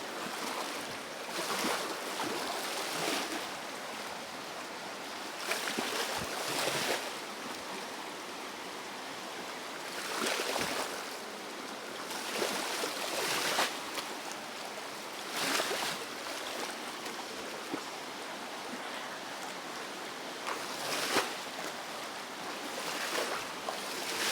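River water rushes steadily during an evening boat outing on a river, a constant broadband wash with periodic louder surges and wind, no voices.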